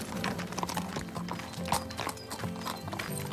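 Hooves clop in a steady uneven rhythm as horses walk nearby on a ranch, with an occasional whinny over a soft background.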